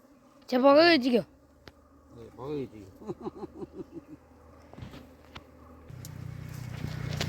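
Honeybees buzz loudly at close range for a moment while being moved from soil into a hive box, followed by softer, rhythmic handling sounds and a rising rustle of activity near the end.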